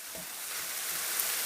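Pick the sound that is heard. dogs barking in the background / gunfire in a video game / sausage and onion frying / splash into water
sausage and onion frying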